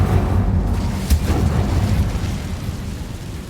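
In Hogwarts Legacy, the Incendio fire spell goes off as a dense, loud whooshing roar with a brief sharp pop near the start, then a steady rumbling burn that slowly fades.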